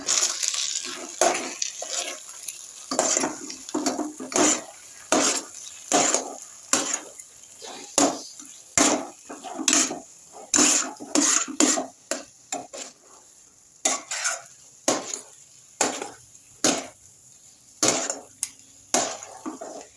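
Maggi noodles being stirred in a pot, with repeated scraping and clinking strokes of a spoon against metal in an irregular steady rhythm, close and fairly clear with quiet gaps between strokes.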